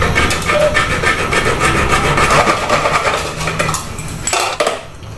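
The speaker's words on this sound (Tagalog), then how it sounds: "Gumamit na lang ngayon ng lagaring bakal." Hacksaw cutting metal on a DIY drum cord extension, a close, loud raspy scraping with rapid back-and-forth strokes and metallic clatter, continuous for several seconds before easing off.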